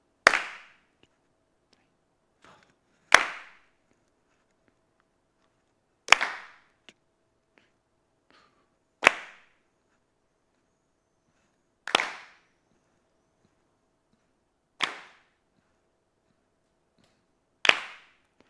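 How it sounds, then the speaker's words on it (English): A group claps together in single sharp, loud bursts spaced about three seconds apart, seven claps in all, each on the one of a count-in, with near silence between them. "So we're all clapping on the one."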